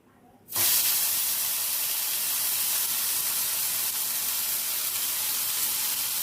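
Spice paste for Bengali katla fish madhukhira hits a hot wok with a sudden loud sizzle, then a steady, bright hissing fry that carries on without a break.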